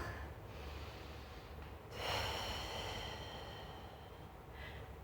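A long, soft breath out during a morning yoga stretch, a breathy hiss swelling midway and then fading, close and quiet against a low room hum.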